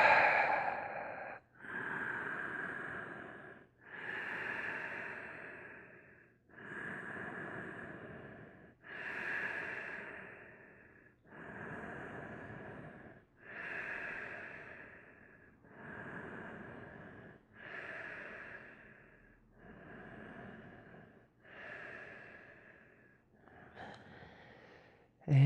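Slow, deep breaths during a yoga bridge pose, about ten long inhale-exhale cycles in a steady rhythm, close and clear with no talking.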